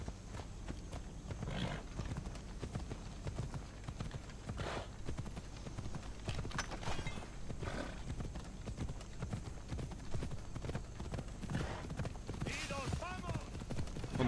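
Horse hooves clip-clop at a gallop in Assassin's Creed Odyssey, a steady rapid beat with occasional whinnies, while a person talks over the game sound.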